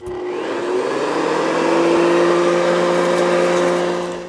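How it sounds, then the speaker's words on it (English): A vacuum cleaner runs at a steady, loud, close drone with a constant whine while cleaning a car's interior seats, console and floor mats, and the sound holds without a break. "Make sure when you vacuum to hit the center console, instrument panel, seat, and floor, including both the mat and the car floor beneath."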